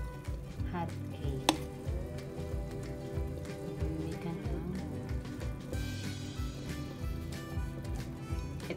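Hot cake batter cooks in a lightly oiled pan, giving a steady soft sizzle with faint scraping and stirring throughout, fairly close and even in level.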